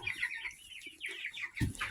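Cockerels from a pullet order clucking close by, with a few short, scattered clucks and a brief louder burst near the end.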